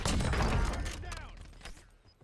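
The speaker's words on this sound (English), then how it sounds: "There's another guy shooting in the house next to me." Gunshots ring out from a nearby house in Call of Duty: Warzone, a loud dense burst of fire in the first second that fades into scattered quieter shots and game sounds.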